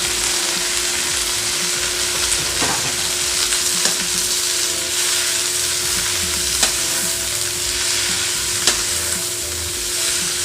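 Vegetables stir-fry in a pan with fried shallots and garlic for Thai fried noodles, a loud continuous sizzle and hiss broken by occasional scrapes of a spatula.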